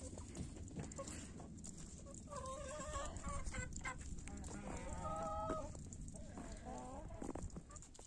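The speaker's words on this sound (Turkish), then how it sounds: "Ben de tavukları açıp havalanmalarını sağlayacağım." Chickens cluck and cackle at a middle distance as they are let out into a snowy yard, the calls scattered over a steady background hiss.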